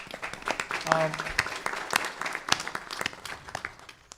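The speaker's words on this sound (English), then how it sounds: "Please give her a round of applause." Scattered, modest applause from a temple congregation during a Shiva Purana yagya at a Radha Krishna Mandir, individual claps distinct and uneven rather than a dense roar, with voices mixed in.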